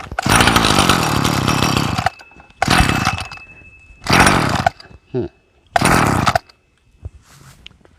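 A petrol grass trimmer engine, under repair for hard starting, fires and runs in loud close bursts, revving for about two seconds, cutting out, then restarting several times with short quiet gaps.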